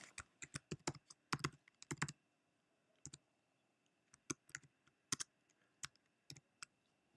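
Keys clattering on a computer keyboard in quick irregular bursts of typing with short pauses between, close and fairly quiet in a still room.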